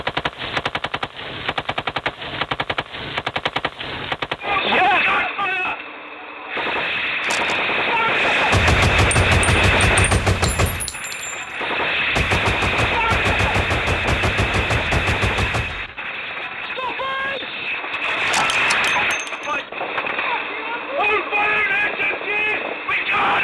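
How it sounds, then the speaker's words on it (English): Heavy machine guns fire in combat in Afghanistan, sustained loud rapid bursts that stop and restart across the span, with long continuous stretches of fire and voices faintly present underneath. "Cavalry's heavy machine guns are in full flow"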